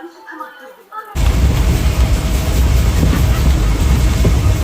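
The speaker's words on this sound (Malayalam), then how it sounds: "ഗൈസ്, അങ്ങനെ ട്രെയിൻ വന്ന് നമ്മൾ ട്രെയിനിലേക്ക് കയറാൻ പോവാണ്." Train pulling into a station on a journey from Kerala to Thanjavur: a quiet opening with faint voices, then a sudden loud, sustained rumbling roar of the passing train close by.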